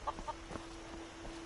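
A chicken clucking in Skyrim, a few short clucks near the start followed by softer scattered clucks over a steady low hum.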